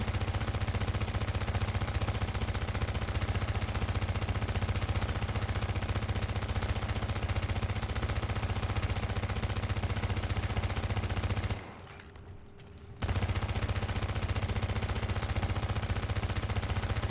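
Sustained, dense automatic fire from a PP-19 submachine gun in The Division, loud and continuous for many seconds, with one brief gap of near-silence before the shooting resumes.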